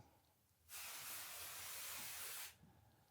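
A smoke machine sprays a thick burst of fog to add atmosphere to a photo shoot, a loud steady hiss that starts abruptly, holds for nearly two seconds, then cuts off.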